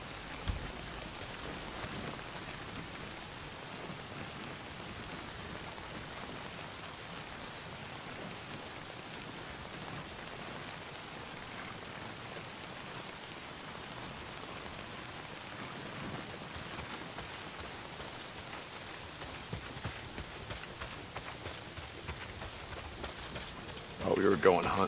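Heavy rain pours steadily in the video game Days Gone, a constant hiss of drops on surfaces at even loudness, with a few brief louder knocks near the end.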